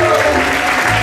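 Church congregation applauding and cheering during a Saturday praise and worship service in Paris, a brief burst of dense clapping with crowd voices mixed in.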